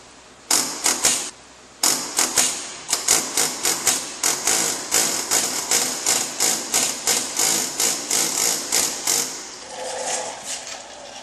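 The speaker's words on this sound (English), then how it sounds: "I'm just going to take the air chisel, just kind of move this back." An air chisel fitted with a dull point tip hammers in a fast series of sharp pneumatic bursts, stopping briefly and restarting, loud and close in a garage.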